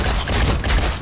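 Rapid burst of gunfire in the tactical strategy game Phoenix Point, a dense, loud cluster of shots packed into about a second with no voices over it.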